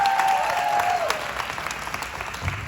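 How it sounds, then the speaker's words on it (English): Audience at a school commitment ceremony claps in a full burst that gradually tapers, with a brief whistle-like tone at the start and a voice speaking over it. "let's give them a hand clap for that"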